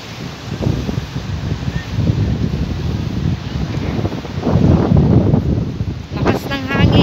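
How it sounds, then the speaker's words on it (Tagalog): Strong wind buffets the microphone outdoors in a city, producing loud, gusty rumbling that swells and fades continuously, with a brief squeaky sound near the end. "Lakas ng hangin."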